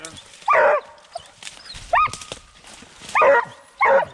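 A roughly two-year-old coonhound bays outdoors during a night coon hunt, giving four loud, separate howling barks spaced a second or so apart over a quiet background.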